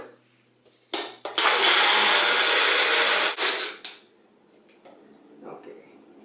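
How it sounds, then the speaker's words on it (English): Countertop blender whirring a salted mint lassi, a yogurt drink, in one loud steady burst of about two seconds, framed by clicks and kitchen handling noises. "just blend it for a few seconds"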